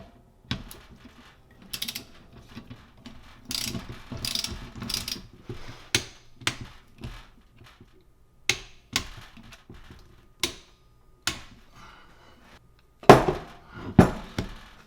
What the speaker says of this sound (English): take your torque wrench and you want to torque the 3 bolts down to